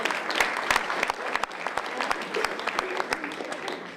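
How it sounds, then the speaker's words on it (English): Audience at a volunteer awards evening claps steadily, a dense mix of close and distant hand claps with sharp individual smacks standing out, while a voice speaks faintly underneath. "And a big round of applause to the city staff that helped make this event happen."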